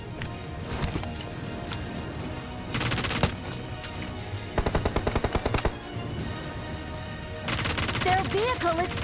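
Rapid automatic gunfire from a BGMI battle royale firefight, several loud bursts of machine-gun fire in quick succession over a busy background of game effects.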